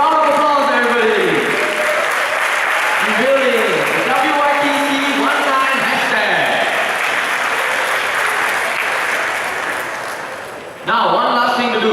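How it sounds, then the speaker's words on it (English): Audience applause at the opening ceremony of the WYTC 2019 event, a broad steady wash of many hands clapping for most of the stretch, with a person speaking over it and a brief dip before a fresh swell near the end. "Round of applause, everybody."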